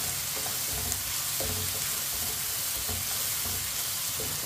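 Onions fry in a pan with a dense, constant crackling sizzle, close and even, broken by a few soft stirring scrapes and with no voices.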